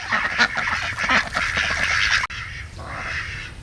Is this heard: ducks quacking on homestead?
yes